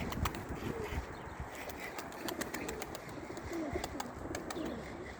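Pigeons cooing steadily over a dense outdoor background, with scattered faint chirps and clicks, moderately close.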